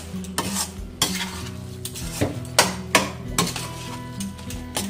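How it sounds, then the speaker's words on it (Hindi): Carrot halwa with cashews and almonds being stirred in a pan over a high flame, a spoon scraping and knocking against the metal in irregular strokes over a soft background sizzle, close and moderately loud with no talk. "इसको फ्लेम तेज करके आप हिलाएंगे।"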